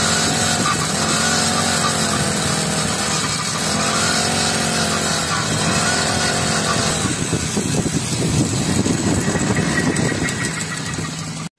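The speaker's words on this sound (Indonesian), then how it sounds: "Nah, ini lagi pemanasan mesin dulu pisau." Honda 4-stroke brush cutter engine warming up beside a pond, a steady close buzzing idle with rhythmic rattling knock that roughens and rises slightly toward the end, no speech.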